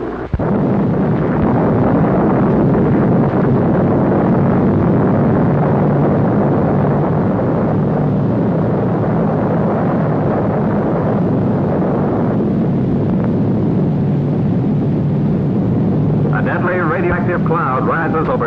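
Atomic bomb test explosion at Bikini from archival film: a loud, sustained, rumbling blast roar that keeps going without letup, with a narrator's voice over it.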